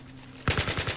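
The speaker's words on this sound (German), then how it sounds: "Boah, die Waffe geht mal übelst ab hier, die AKS." An AKS rifle fitted with a suppressor and red dot sight fires a rapid automatic burst of about six muffled shots in quick, even rhythm in the video game Battlefield 3, close and punchy after a quiet lead-in.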